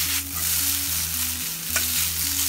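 Yakisoba noodles fry in browning butter in a pan, giving a steady, close sizzle with a faint repeating melodic tone underneath and no voices.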